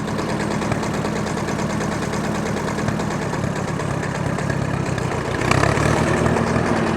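A 1953 Allis Chalmers WD45 tractor engine runs at a steady loud chug, then pulls away with a rise in load just past the midpoint, no talk.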